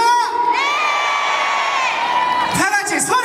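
At a persimmon festival concert, a crowd raises a loud, sustained cheer of high shrieks and whoops that swells, dips briefly and then surges again, close and continuous.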